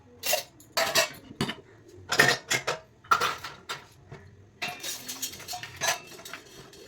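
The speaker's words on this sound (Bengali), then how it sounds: "থালা বাসনগুলো সেট করে দিচ্ছি।" Plates and dishes are set out one after another, sharp ceramic and metal clinks and clatters in irregular bursts with short quiet gaps between, close by.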